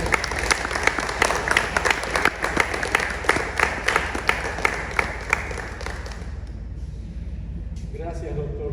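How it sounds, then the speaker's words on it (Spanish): At a book launch, an audience applauds the writer with a close, rhythmic burst of clapping that holds strong for several seconds, then fades away, leaving a voice speaking at the end. "el momento debe de ser propicio para dar un aplauso a nuestro"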